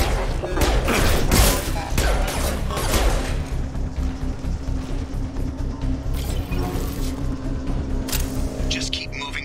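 Rapid bursts of gunfire from a Mass Effect 2 firefight at a mech-filled Cerberus station, loud and near, clattering in volleys over a steady background hum, with talk over it.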